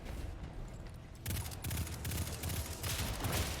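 Rapid, dense bursts of weapon fire in the Destiny 2 Gilded Precept Lost Sector on Master difficulty, a steady low rumble that turns into loud, sustained volleys after the first second and keeps going.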